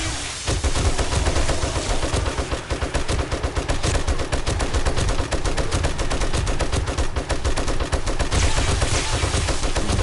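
Nonstop gunfire from 7 Days to Die during a nighttime horde defense, dense rapid shots overlapping in a loud, sustained volley with no pauses.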